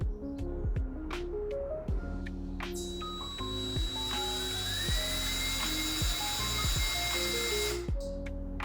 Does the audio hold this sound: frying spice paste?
no